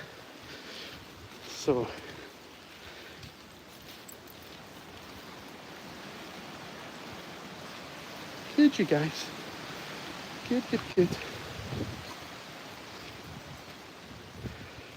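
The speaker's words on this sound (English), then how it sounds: "It's a bit windy in Edinburgh today" Wind blows steadily outdoors in Edinburgh, a soft, constant broadband rush with a few brief gusty bumps and short bits of nearby talk.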